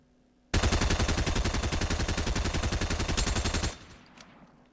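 Rapid SMG fire in Fortnite, a loud, dense burst of evenly spaced shots lasting about three seconds, then stopping abruptly into quiet.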